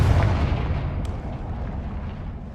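Confringo spell explosion in the video game Hogwarts Legacy: a deep, rumbling blast that decays over a couple of seconds with a faint crack partway through.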